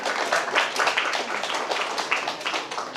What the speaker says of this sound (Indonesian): KNPI boleh minta tepuk tangannya?